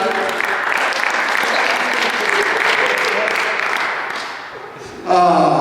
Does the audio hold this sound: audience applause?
yes